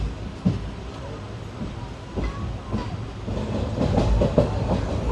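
The 16116 Puducherry–Chennai express rolls along with a steady low rumble and faint rhythmic wheel clatter heard from inside a packed carriage, with occasional voices in the background.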